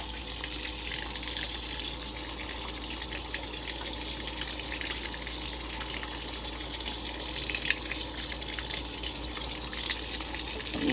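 Water runs steadily from a tap while laundry is rinsed, a constant close hiss and splash with no pauses and no talking.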